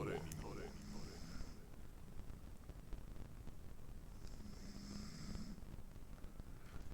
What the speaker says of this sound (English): Something I learned from filming myself is that I snore